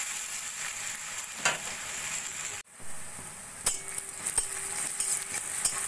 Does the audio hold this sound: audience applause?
no